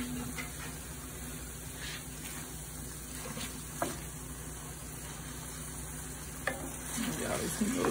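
Tomatoes and garlic sizzle steadily in a pan with a constant frying hiss, punctuated by a few stirring scrapes and a louder stir toward the end.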